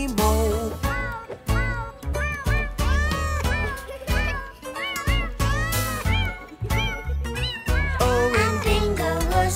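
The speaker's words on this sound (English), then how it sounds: "There was a farmer who had a cat, and Bingo was her name-o." Meow-like sung or voiced cat calls run through a loud children's farm song about a farmer's cat, set among dense music with vocals and a steady beat throughout.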